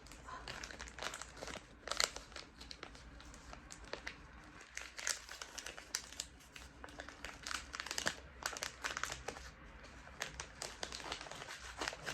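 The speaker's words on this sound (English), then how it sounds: "I'm going to place it into our poly mailer return address bag." A plastic poly mailer return-address bag crinkles and rustles continuously, close and fairly loud, with dense crackling bursts throughout and no talking.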